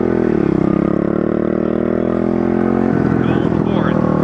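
A pit bike engine in poor tune with broken parts runs loud and close, its steady drone shifting in pitch partway through. A voice talks over the engine.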